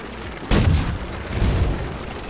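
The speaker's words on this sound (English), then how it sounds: "Buildings are getting destroyed." Buildings blasted apart by gunfire in the video game Sea of Craft: a heavy booming impact followed by rumbling crumbling and a second deep thud, loud and close, with no talking.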